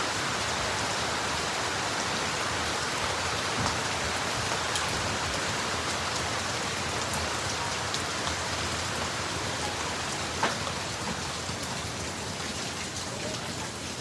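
Steady rain falls outside a crowded Amerindian hostel in Kumaka, a dense, even hiss of drops on surfaces that stays loud and unbroken throughout, with no voices.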